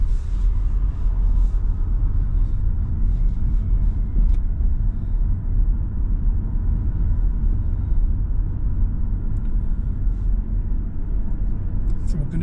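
A learner's car pulls away from a mini roundabout, its engine a steady low rumble of road noise that holds constant throughout, with no clear rise in pitch.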